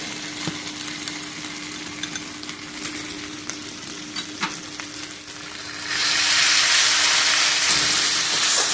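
Mutton stir-fried with dried chilli and pepper paste sizzles steadily up close, with stirring scrapes throughout, then swells into a louder, hissing rush near the end.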